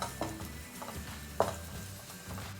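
Green chili, ginger and garlic sauté in a pan with a faint sizzle, broken by a few soft scrapes and taps of a stirring spoon.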